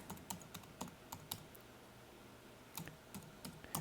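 A login password typed on a computer keyboard: quick bursts of soft key clicks, close but faint, with a short pause in the middle before another flurry of keystrokes.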